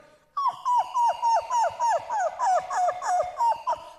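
A man in a village mimicry comedy act imitates a dog, giving a rapid run of about a dozen whimpering yips in steady rhythm, loud and close, with no other talk.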